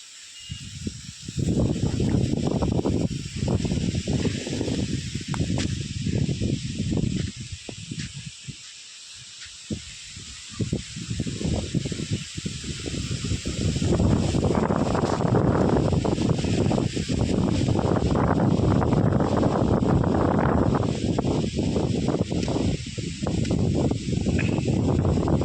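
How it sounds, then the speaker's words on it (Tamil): Strong wind blows outdoors by a field of fresh greens where cattle graze, a loud, rushing roar that buffets the microphone in uneven gusts and grows heavier and steadier in the second half. "காற்று ரொம்ப அடிக்குதுங்க ஃப்ரெண்ட்ஸ்."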